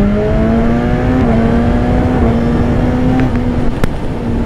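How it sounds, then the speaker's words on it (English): 2015 BMW S1000RR sportbike fitted with a Yoshimura aftermarket exhaust, revving at a loud, steady high pitch with small dips and a brief sharp pop near the end, close by and alone. "Yoshimura actually sounds amazing on this bike"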